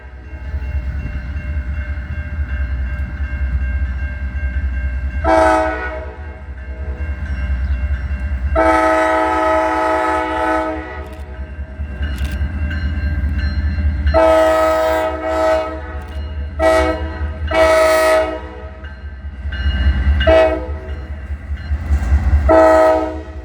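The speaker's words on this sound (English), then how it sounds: "Southbound Manifest NS 345 crosses the Diamond on its way to Meridian" A Norfolk Southern manifest freight rolls across a rail diamond crossing in Birmingham, Alabama, loud and close, with repeated long horn blasts over a constant rumble and wheel clatter.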